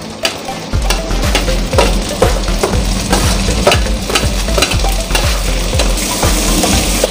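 Green chillies and chopped onions stir-fried with ginger and garlic for chilli chicken, a loud steady sizzle in hot oil broken by repeated scraping strokes of a spatula, close and without talk.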